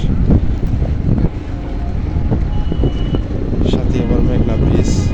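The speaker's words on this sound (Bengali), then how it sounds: "নদীর অনেক সুন্দর বাতাস" Strong wind buffets the microphone on a boat on the Meghna river, a steady low roar with engine rumble underneath.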